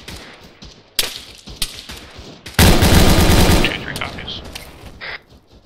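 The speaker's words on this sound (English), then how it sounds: "Who's the motherfucker shooting at me?" ARMA 3 combat brings sharp single gunshots, then a loud sustained burst of automatic fire, followed by scattered shots and echoing cracks, some close and some farther off.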